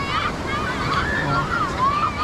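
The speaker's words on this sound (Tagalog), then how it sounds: "At dito lang muna tayo sa tabing dagat." Ocean waves washing ashore at the seashore, a loud continuous surf rush mixed with wind buffeting the microphone, with a faint voice underneath.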